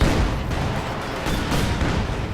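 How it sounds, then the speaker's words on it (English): A field gun firing in the Company of Heroes 2 video game, heavy booming shots layered over a dense rumble of battle noise, loud and continuous. "More shots there from the field gun."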